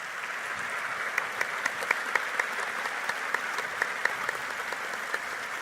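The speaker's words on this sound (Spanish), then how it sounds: "Yo les propongo un aplauso para ellos 4." Steady applause from a seminar audience fills the whole stretch, a dense even wash of many hands clapping with occasional sharper individual claps standing out.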